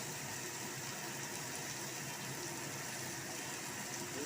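Papaya pieces hit hot mustard oil in a pan for chutney, giving a steady, close, dense sizzling hiss that holds evenly throughout.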